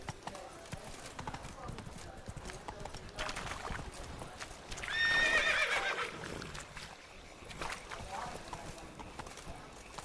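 Roach, the horse in The Witcher 3: Blood and Wine, gallops with rhythmic clip-clop hoofbeats and gives a loud whinny midway. Talk and game sounds run underneath.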